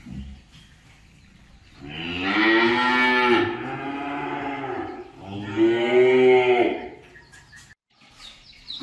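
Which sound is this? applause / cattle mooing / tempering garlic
cattle mooing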